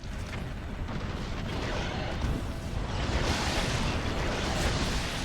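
Rocket launcher explosions in Resistance: Fall of Man make a broad, rumbling roar that swells and stays dense, with heavy booms blending into a continuous wash of noise at moderate loudness.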